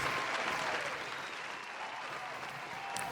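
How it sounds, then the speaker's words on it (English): Steady applause from a crowd, a dense wash of clapping that holds at an even level throughout, with no talking. "Let me hit a round of applause."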